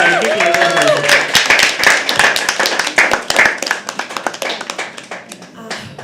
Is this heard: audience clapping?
yes